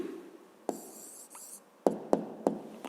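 A pen writes an answer on paper: a soft, scratchy stroke followed by a few sharp taps and short strokes, close and quiet, with no talking.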